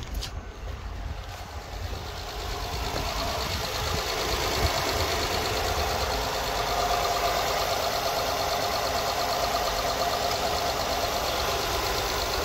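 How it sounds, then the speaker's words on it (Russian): A 2012 Honda Crosstour's 3.5-litre engine idles steadily at a salvage yard, recorded from outside the car as a continuous, even mechanical hum with no voices. "Покажем работу двигателя снаружи."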